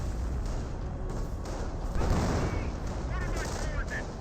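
Gunfire in a Company of Heroes battle, with grenadiers shooting at a machine-gun position: dense, continuous crackling shots and rattling bursts filling the whole stretch, with a louder burst midway.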